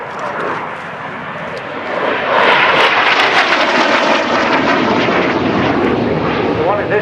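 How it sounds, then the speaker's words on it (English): F-86 Sabre, an early-generation jet aircraft, roars steadily at an airfield, its broadband engine rush swelling louder after a couple of seconds and holding, with no speech over it. "this is a very early generation of jet engine"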